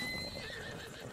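A horse in Zelda Breath of the Wild gives a short whinny, a thin wavering tone over a busy game soundscape with soft hoof noise, brief and fairly quiet.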